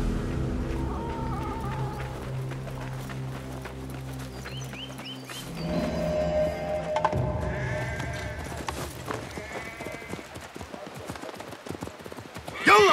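Horse hooves clip-clop in a steady rhythm under the Assassin's Creed Mirage game soundscape, with bleating sheep, a voice talking, and layered ambient music.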